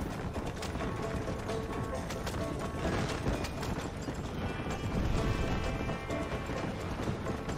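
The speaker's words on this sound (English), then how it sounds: "O cavalo tá doidão." Horse hooves clopping and clattering with mechanical game noises in Red Dead Redemption, a steady busy mix running throughout at moderate level, with a voice faintly present.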